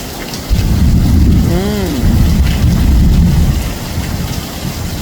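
Steady heavy rain pours down on a rainy day in Jamaica, a dense loud wash with low rumbling underneath and a brief voice partly audible through it.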